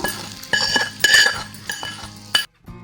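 A spoon scrapes and clinks against a metal pot while tempering is stirred into curd rice, a busy run of close clatter and chinks that stops abruptly near the end.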